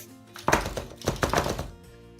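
A key lime pie in its dish is pounded on a counter before baking, a series of dull thumps in two short clusters, close and fairly loud with no talk.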